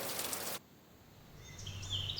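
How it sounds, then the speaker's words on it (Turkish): Faint forest bird chirps and calls rise over a soft ambient hush, preceded by a brief burst of broadband noise like rain or rushing water. "Çok güzel kuş sesleri."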